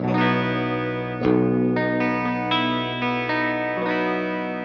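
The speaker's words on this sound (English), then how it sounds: "Motionless chorus sound." A sustained electric guitar chord through a Fender chorus pedal, with a shimmering chorus effect, struck several times in a row, ringing out clearly with no talking.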